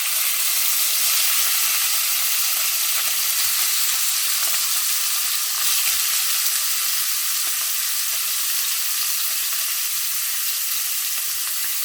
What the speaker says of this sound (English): So I'm just going to fry off my saltfish.